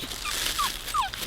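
Labrador and Pomeranian puppies whimper outdoors: a few thin, high, sliding whines, close and soft, over a faint background hiss.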